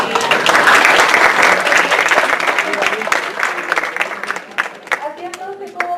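Applause fills a classroom-style health lecture for several seconds, loud at first and then thinning into scattered claps as voices murmur underneath.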